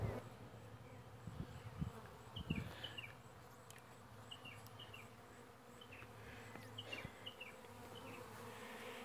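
Honeybees buzzing around a wine barrel hive, a steady droning hum from many insects close by, with a few faint scattered chirps over the constant buzz and nobody speaking.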